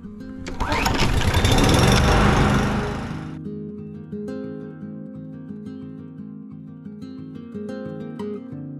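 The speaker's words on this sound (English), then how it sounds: "it's lawn mowing time, borrowed my mate's lawnmower" A loud lawn mower engine roars for a few seconds, then cuts off, leaving music playing.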